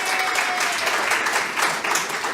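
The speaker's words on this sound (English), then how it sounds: "Big round of applause." A studio audience claps steadily throughout, a dense, even burst of applause from a modest crowd.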